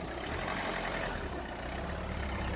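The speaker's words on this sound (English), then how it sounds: "let this car go by" A car passes on a street near dogs being walked, heard as a steady broadband road and engine rumble that stays loud throughout, with no voices.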